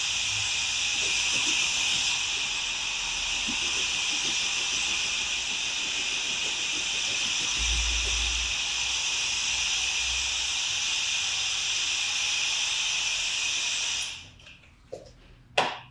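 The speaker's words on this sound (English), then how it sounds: "So I'm just going to pop the diffuser on now. So low speed, low heat." A hair dryer fitted with a diffuser running on low speed and low heat, a steady close whooshing hiss that holds for most of the moment before switching off with a few small clicks.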